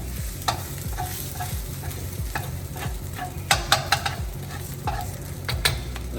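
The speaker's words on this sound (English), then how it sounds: "push it to the side of your wok, make you a hole in the middle" Chicken fried rice being pushed around a hot wok, sizzling steadily, with repeated scraping strokes of the spatula against the metal and a few sharper clacks.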